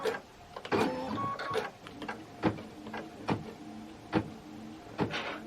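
A computerized embroidery machine stitches out placement lines and a detailed design on felt for a Kimberbell Cup of Cheer project, giving a steady mechanical whirring with regular tapping needle pulses, close and moderately loud, with no talking.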